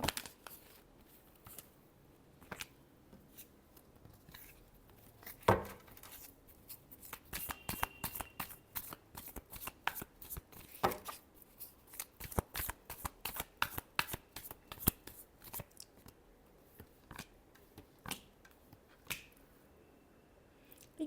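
Tarot cards being shuffled by hand, a long run of crisp riffling flicks and snaps, close and fairly loud, continuing with steady irregular rhythm across the whole stretch with no talking.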